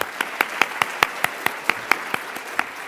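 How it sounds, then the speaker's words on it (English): Applause from an audience at a keynote for primary care nurses: sharp, evenly spaced claps in a steady rhythm, about five per second, carried over a constant crowd hiss and fading slightly toward the end. "Give a big round of applause to them."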